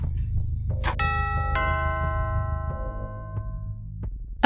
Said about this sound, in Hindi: घर की डोरबेल बजी।